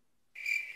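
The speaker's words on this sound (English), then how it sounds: "Crickets." A cricket chirping sound effect cuts in abruptly after a short silence, a thin, bright, continuous trill held steady and clear until the end.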